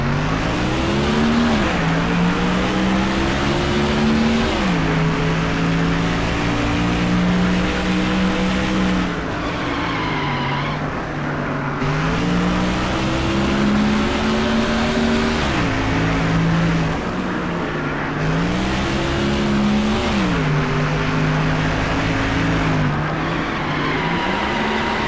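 Race cars lap the track in NASCAR Thunder 2004, a loud, close engine roar rising and falling through repeated gear shifts and revving, continuous over the whole stretch.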